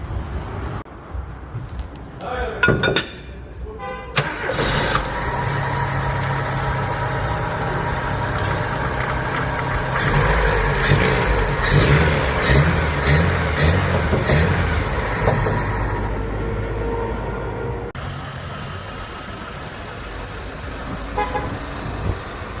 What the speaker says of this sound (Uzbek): Nexia bir avtomobilimizdan zavod qildik. Ishlashlari juda ham ideal bo'ldi.